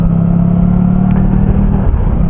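A motorcycle engine hums steadily and loudly while riding on wet roads in the rain, a constant low drone with wind noise and no speech over the short stretch.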